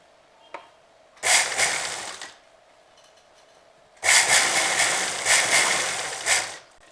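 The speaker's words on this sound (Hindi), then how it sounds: "तो यहीं से मैं सिलाई लगाना स्टार्ट करूँगी" A sewing machine stitching the back neck of a blouse runs in two loud, close bursts, a short one followed after a pause by a longer steady run.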